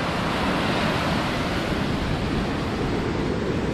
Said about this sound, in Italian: Dal mare incazzato della Sardegna vi mando tantissimi saluti